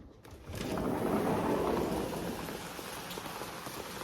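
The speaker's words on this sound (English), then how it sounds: "woke up to some rain. Oh, some nice rain." Steady rain falls outside on a wet morning, a dense continuous patter that swells in after a brief quiet start and stays fairly loud throughout, with no voices.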